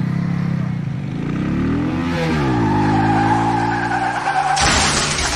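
A stunt motorcycle engine revs up with rising and falling pitch sweeps, loud and close, ending in a sudden burst of harsh noise.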